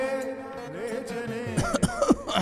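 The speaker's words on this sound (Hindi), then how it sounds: "क्या हुआ बेटा, इतना खांस क्यों रहा है?" A boy coughs several times in quick succession, short harsh bursts near the microphone following a moment of strained throaty sound, with a music-like tonal background underneath.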